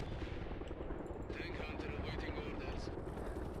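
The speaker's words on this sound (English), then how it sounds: "those are amazing looking helicopters" Mi-24 helicopter rotors in the video game World in Conflict churn steadily under dense, constant noise, with bursts of gunfire and mechanical clatter mixed in throughout.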